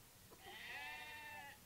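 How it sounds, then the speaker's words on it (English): A single sheep from a small farm flock bleats once, a drawn-out wavering call lasting over a second, faint and somewhat distant. "but we have about a dozen sheep"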